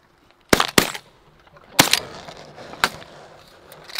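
Shotgun blasts while hunting pigeons over a feed field, several sharp, loud reports in irregular succession, the first two close together, each trailing off into outdoor noise.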